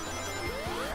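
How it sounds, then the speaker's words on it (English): A phone chimes with a brief notification tone after a laptop login, rising and fairly faint, under quiet background music. "It's my phone telling me, hey, you logged into your laptop."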